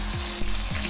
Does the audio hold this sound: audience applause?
no